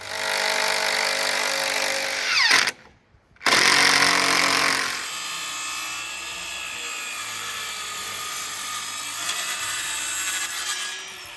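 A power tool drives screws into a barbecue roof panel, a loud steady whining run that stops briefly, then resumes as a long even buzz with no voices.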